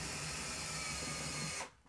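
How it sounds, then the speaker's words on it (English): A power drill drives small self-tapping screws through a pipe into a trim ring, giving a steady high whine that holds for about a second and a half before cutting off sharply, leaving a faint click. "Screw them through the pipe into the trim ring."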